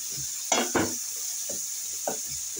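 Chunks of bottle gourd go into a pan with frying fish, a steady close sizzle broken by several irregular scraping stirs and soft knocks of a utensil against the pan.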